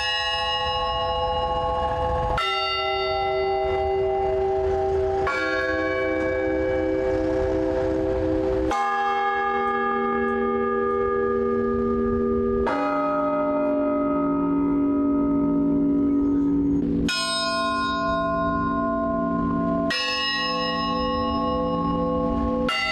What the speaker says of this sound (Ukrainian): Лунають скорботні дзвони Георгіївської дзвіниці